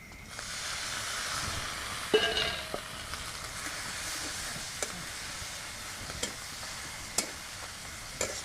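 Ridge gourd flowers fry with prawns in spiced oil, a steady steamy hiss of moderate loudness punctuated by occasional stirring clicks and scrapes.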